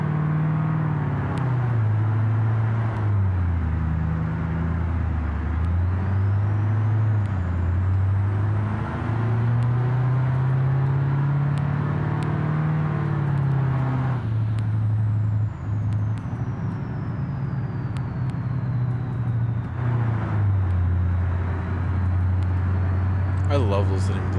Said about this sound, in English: I love listening to this truck.